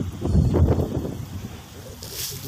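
Steady wind buffets the microphone with low rumbling gusts, loud at first and easing off, with a brief airy hiss near the end.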